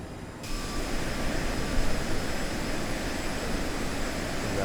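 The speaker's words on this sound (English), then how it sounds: "We got another plane coming in on approach, it looks like." Airliner on approach in Microsoft Flight Simulator, flying a CRJ7 near Fukuoka, a steady broadband jet engine roar with a faint high whine, constant and fairly loud throughout, no speech.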